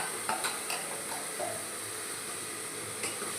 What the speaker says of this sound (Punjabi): ਇਹਦੇ ਵਿੱਚ ਆਪਾਂ ਮੇਥੀ ਮੁੱਠੀ ਪਾ ਲਾਂਗੇ